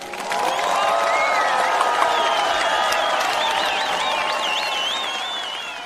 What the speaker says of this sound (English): Please join me in giving all of our fabulous winners a round of applause wherever you are.